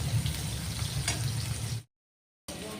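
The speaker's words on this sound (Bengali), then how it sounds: "পেঁয়াজটা একটু ভাজা হবে" Onion frying in oil in a wok, a dense continuous sizzle that cuts to complete silence for about half a second before resuming.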